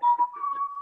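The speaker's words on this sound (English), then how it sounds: "Yes, it's me whistling." A man whistles the Godfather theme, one near, clear melodic line that holds a steady tone with brief swells, rising from silence.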